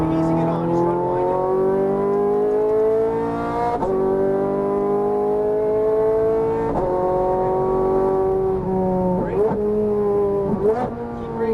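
A Ferrari F430 Scuderia engine pulls steadily on a race track, its loud, smooth harmonic note climbing as throttle is fed in out of a corner, with brief dips at shifts and a voice talking over it.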